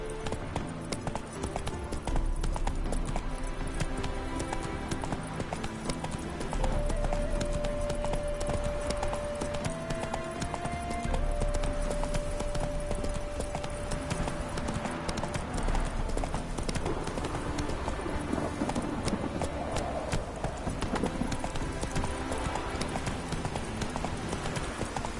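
The horse Roach gallops in The Witcher III with steady, rhythmic clip-clopping hooves throughout, blended with a continuous game soundtrack and ambience.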